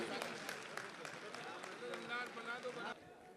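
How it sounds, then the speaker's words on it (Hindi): Audience at a Republic Day kavi sammelan and mushaira in Dubai applauds to welcome the poet Damdar Banarsi. Dense, steady clapping runs under a voice and cuts off just before the end. "दमदार तालियों के साथ आप उसका स्वागत कीजिए"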